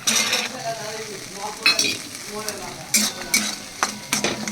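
Green peas with spices and Kashmiri chilli powder frying in a little oil for cabbage ghonto, a soft sizzle broken by several sharp stirring scrapes and clacks of a utensil against the pan, no voices.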